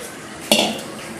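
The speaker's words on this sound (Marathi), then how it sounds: "एक मी असं मोठं ताट घेतलेलं आहे, त्यामध्ये हे साबुदाणा काढून घेणार आहे" Soaked sabudana is tipped into a large plate with a single sharp utensil clink and short scrape, close and brief against a quiet kitchen background.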